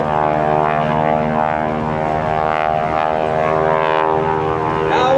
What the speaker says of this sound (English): that bark you hear is not so much exhaust, that 450 horsepower Stearman